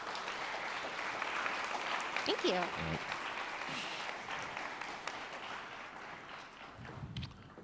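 A conference audience at a UX research event applauds a speaker. The clapping is soft and distant, a faint continuous patter, and a voice speaks briefly over it.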